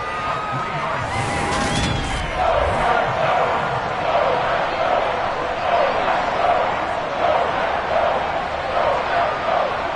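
Crowd roar in an American football video game, a steady, loud wash of cheering that swells through the stands during a big play, with a sharp burst of noise near the start.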